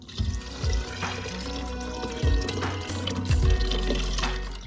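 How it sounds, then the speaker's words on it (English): Lentils and their water splash and pour into an Instant Pot in a few gushes, with a low bubbling fill sound close by. "add all the lentils including the water"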